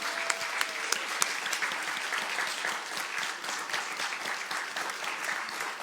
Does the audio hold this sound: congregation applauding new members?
yes